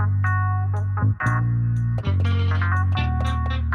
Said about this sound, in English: Oh, they got a hot funk guitar.